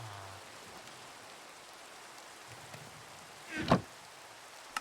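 Steady, soft rain hiss from Minecraft runs throughout at low level, broken near the end by a brief louder thump-like burst.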